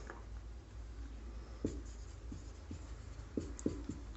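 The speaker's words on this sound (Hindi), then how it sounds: "तो यहां पर हम लोग लिखते हैं" Chalk or marker writing on a board during a chemistry lecture, faint short scratches and taps in an irregular rhythm over a quiet room hiss.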